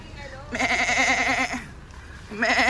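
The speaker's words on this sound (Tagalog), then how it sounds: "Ayan, mga kambing." Goats bleating close by in Japan, two loud wavering calls with a short pause between them, the second cut off at the end.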